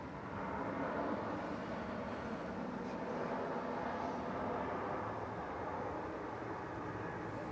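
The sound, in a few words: Emirates aircraft departing Melbourne Airport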